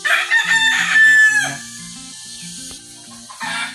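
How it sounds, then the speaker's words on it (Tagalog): Native chickens crow loudly and close by, one long bright crow followed by overlapping crows and clucking from several birds. "dala kami na native na manok"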